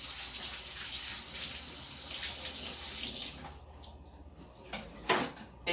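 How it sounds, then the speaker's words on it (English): Running water from a kitchen tap while hands are washed with soap after handling meat, a steady close splashing stream that cuts off partway, followed by a few clunks and knocks. "Let me wash my hands with soap from this meat."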